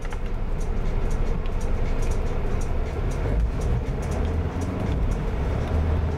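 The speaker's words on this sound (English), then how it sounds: "Yeah, winching in now." A winch hauls a 4WD vehicle out of thick mud, giving a steady, loud, continuous mechanical drone with engine rumble underneath and no break in the sound.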